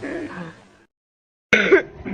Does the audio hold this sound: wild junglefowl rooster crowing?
no